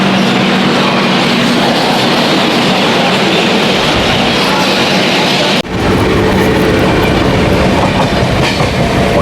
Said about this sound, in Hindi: ये जो ट्रेन थी ये थी हावड़ा बीकानेर सुपरफास्ट, जो कि टुंडला से आगरा की तरफ निकल रही है।